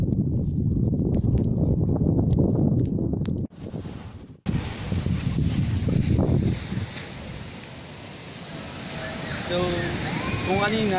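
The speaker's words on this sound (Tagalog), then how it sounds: "sobrang lumalakas yung ulan at hangin dahil sa may kakaibang panahon" Strong wind and rain lash a beach during stormy low-pressure weather, a loud continuous roar buffeting the microphone with a brief dip midway, then steady hissing gusts.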